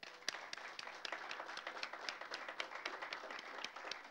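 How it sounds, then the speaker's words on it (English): Heartfelt applause at a city council meeting, a steady patter of clapping from a modest crowd with sharp individual claps standing out, fairly faint throughout. "give them a very heartfelt applause"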